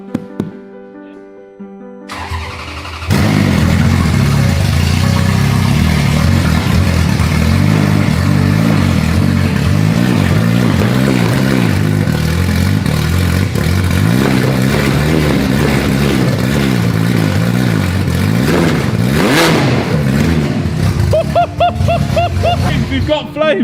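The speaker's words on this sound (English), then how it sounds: "I'm going to go again, and I'm going to give it some revs this time" Crash-damaged Ferrari F430 supercar engine, under restoration, idling briefly then revved hard and held at high revs with rising and falling surges, loud and close, with occasional crackle; people talk over it.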